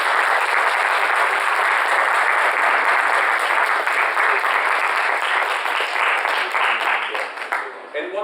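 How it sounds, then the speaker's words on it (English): An audience applauds steadily at the close of a poetry reading on resistance and Palestine, a dense, sustained wash of clapping that holds for several seconds before thinning out at the end. "let's give him another round of applause"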